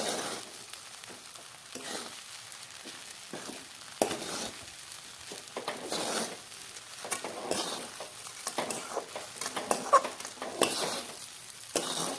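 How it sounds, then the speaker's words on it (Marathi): Sabudana khichdi with coarsely crushed peanuts is stirred in a pan, a steady sizzle under repeated scraping strokes of a spoon that come and go in irregular bursts, close by and fairly loud, with no talking. "आता हे छान मिक्स करायचं आहे हलवायचं आहे"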